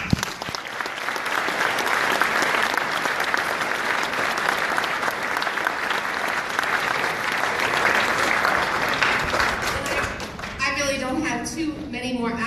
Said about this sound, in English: So how about a round of applause for all of you?